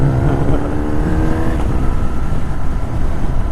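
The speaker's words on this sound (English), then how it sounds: "Nice old MG." An old MG car engine runs nearby with a rough, throaty rumble that shifts slightly in pitch, steady and loud throughout.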